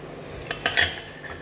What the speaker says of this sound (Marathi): आता ह्याला ह्या घुगण्यामध्ये काढते आणि चांगलं घोटून घेते ह्या घोटणीने